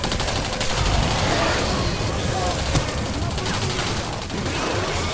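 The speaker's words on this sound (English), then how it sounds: "a barrage of grenades come through the windows to try and incentivize you to move on" Grenades bursting one after another in the shooter game Singularity, a dense barrage of booming blasts and crackling gunfire that runs continuously at close range, with a sharper hit near the middle.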